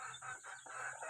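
Pet chicks peep and cheep in quick, high, overlapping calls, close and moderately loud for about a second, with no voices.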